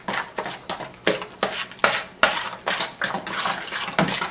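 A spoon or whisk scrapes and knocks around a bowl as cake batter is mixed with oil, producing a quick run of rhythmic, close clinks and swishes with no talking.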